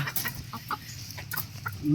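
A chicken clucks in short bursts outdoors in a palm plantation in Malaysia, several quick calls spread across the moment, with a light rustle in the background.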